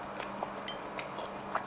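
Someone bites into a crispy fried fish cake made with fish paste and onion, giving several soft crunchy bites and chewing sounds, close and fairly quiet, with no talking.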